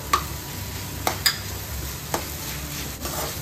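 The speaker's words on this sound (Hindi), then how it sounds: "ओनियन और टमाटर का मिश्रण अभी थोड़ा पक चुका है तो अब उसमें हम अदरक लहसुन पेस्ट डालेंगे।" Ginger garlic paste frying in a pan with a cooked onion-tomato mixture gives a steady low sizzle, broken by a few soft stirring clicks and scrapes, close and with no talk.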